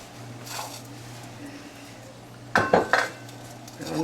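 Above a low steady hum, a plate set over a cast iron bundt pan gives a couple of soft taps. The two are then flipped together, bringing a short burst of clattering knocks and a final clunk.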